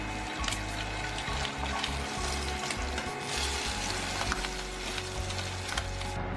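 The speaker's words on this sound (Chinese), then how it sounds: "现在来煎鸡蛋，锅中热油，加点盐，倒入鸡蛋，煎熟就可以了。" An egg fries in hot salted oil in a pan, with a continuous loud crackling sizzle and spitting pops throughout, plus a low hum and some clatter beneath.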